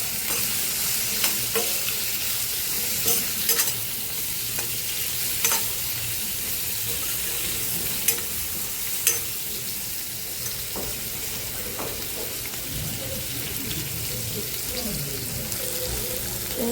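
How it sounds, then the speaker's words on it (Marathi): Okra fries in oil with turmeric, salt and red chili, giving a dense, even sizzle close up, broken by occasional clicks of a stirring spoon against the pan. "तुम्ही बघू शकता आपली भेंडी फ्राय झाली आहे."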